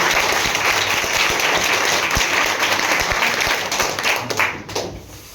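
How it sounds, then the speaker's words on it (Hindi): An audience gives hearty applause, a loud, dense patter of many clapping hands that holds steady before thinning out and tapering near the end. "तो एक बार सर के लिए जोरदार ताली"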